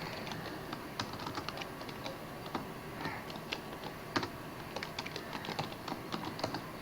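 Steady light typing on a computer keyboard, a soft run of close, quiet key clicks with brief pauses and no talking.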